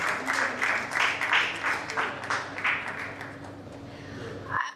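Audience applause for Amit sir at a CAP70 Sharks event, a steady round of clapping from a room of people that fades toward the end.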